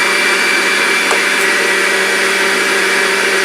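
A meat grinder runs at a steady, loud whine while grinding steak together with Italian sausage, a continuous motor drone with no talking.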